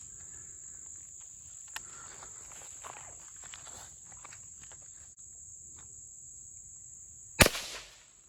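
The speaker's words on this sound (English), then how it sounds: "I'm going to shoot it and see if I can hit any of it" A single loud gunshot cracks out near the end, fired at squash and cucumber targets set up outdoors, over a steady high insect drone and faint rustling.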